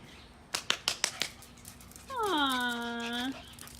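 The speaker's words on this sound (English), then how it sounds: "Dogs are always so happy and loving, right?" A dog gives a few short sniffs or yips, then a drawn-out whimpering whine, close and fairly quiet, with a faint steady hum underneath.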